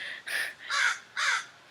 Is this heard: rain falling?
no